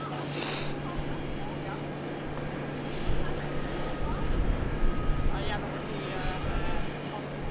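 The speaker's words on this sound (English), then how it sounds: "It looks like an amazing aircraft at the moment." An aircraft at Amsterdam Schiphol Airport makes a steady, loud engine roar with a constant low hum that swells slightly midway, while a voice talks over it.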